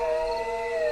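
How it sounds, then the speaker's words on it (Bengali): Street dogs howl mournfully at midnight in an animated horror story. A single sustained, wavering tone is held close and clear for under a second. "বাইরে রাস্তার কুকুরগুলো কান্নার সুরে ডেকেই চলেছে।"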